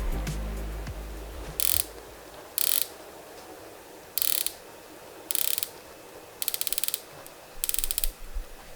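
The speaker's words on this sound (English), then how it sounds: "The bezel has 60 click and you feel each one of them with a lot of pop." A Tudor Black Bay 58 dive watch's 60-click bezel turns in short bursts, close and crisp, with sharp ratcheting clicks separated by quiet pauses, the last bursts longer and faster.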